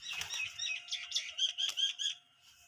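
Pigeons chirp and beat their wings as they take off from a rooftop, a brief flurry of close flapping and calls that fades within a few seconds.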